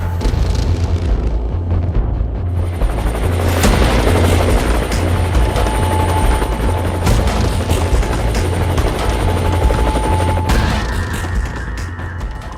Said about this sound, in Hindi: मैं इस समय रुद्र के सामने खड़ा हूं और इस हेलीकॉप्टर में गन्स भी हैं